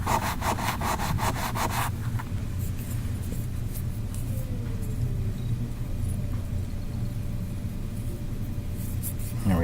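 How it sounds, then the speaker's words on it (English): Bronze wool is rubbed against rusty metal, producing a brisk run of rhythmic back-and-forth scrubbing strokes, close and fairly loud, followed by a steadier rough rubbing. "Got some bronze wool. This is removes the rust and nothing else."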